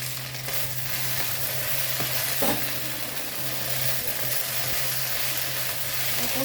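Okra frying in a pan with a couple of spoonfuls of oyster sauce, stirred with steady sizzling and a few soft utensil scrapes, close and continuous with no talk.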